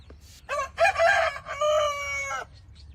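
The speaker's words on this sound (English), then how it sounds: "the rooster only crows twice" A rooster on a farm in Thailand crows twice, a loud, close, drawn-out call with a short pause in between.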